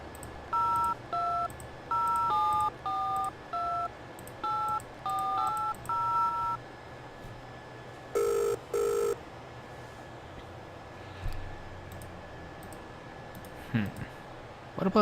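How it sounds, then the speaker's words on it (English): In-game phone dialing in a detective adventure game, with a run of distinct touch-tone beeps of varying pitch, then two long electronic ring tones, followed by quiet background and faint clicks. "Let's give him another phone call."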